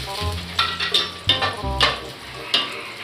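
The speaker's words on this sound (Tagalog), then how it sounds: "So yun po, magigisa na po tayo." Garlic sautéing in hot cooking oil for Filipino tinolang manok, a steady close sizzle with several sharp spatula stirs and scrapes against the pan.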